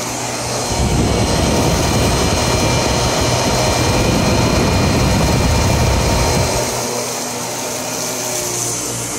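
An upright vacuum cleaner, either a Miele Dynamic U1 Twist or a Sebo Automatic X4, roars loudly and steadily close by for about six seconds, then shuts off, leaving only a faint residual hum.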